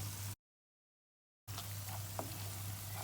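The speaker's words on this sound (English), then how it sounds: "we're going to mix that in and saute it with the onion and garlic for about 2 minutes" Onion, garlic and tomato paste sautéing in a pan for red lentil kofta, a faint steady sizzle with soft stirring scrapes, briefly broken by a gap of silence.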